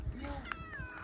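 A striped male cat gives a short, close meow, and a person speaks nearby.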